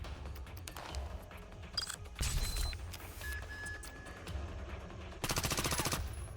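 Rapid automatic fire from a deployed turret in the video game Reverse Collapse, with several bursts of fast, evenly spaced shots and a long loud volley at the end, mixed with game effects.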